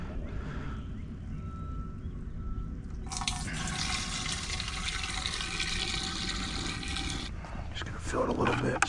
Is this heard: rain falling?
no